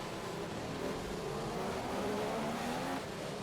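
Formula 1 race cars in a video game pack closely together in traffic, with a steady, dense engine drone that holds without a break.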